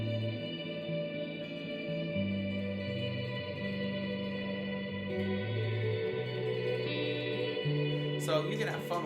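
Electric guitar chord progression drenched in heavy reverb with a long decay: sustained, washy notes blend into a continuous ambient pad, fairly quiet throughout, with a brief brighter strum near the end.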